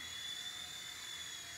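A Wltoys V911 RC helicopter flies indoors with a steady, high-pitched rotor whine and motor buzz, constant and fairly close, with no talking.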